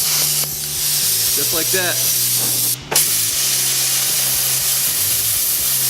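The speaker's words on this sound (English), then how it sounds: "We can start in here with a pierce cut and then cut away" A Hypertherm Powermax 45XP plasma cutter pierces and cuts metal with a loud, steady hissing spray, broken by a brief gap, running beneath a voice speaking close by.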